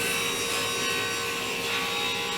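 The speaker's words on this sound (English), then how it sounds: "Now this is 3/4 inch plywood. It's Baltic birch plywood, and I am cutting the width" A hand saw cuts through 3/4 inch Baltic birch plywood, a dense continuous rasping of teeth in wood, close and loud with no pauses.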